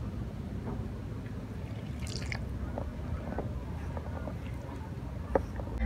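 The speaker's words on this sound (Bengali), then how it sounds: "এই দুধটা অল্প অল্প করে দিয়ে একটা ডো বানিয়ে নেব" Soft, wet squishing and dabbing as naan dough made from atta is worked by hand while milk is added little by little, quiet and continuous against low background noise, with no talk.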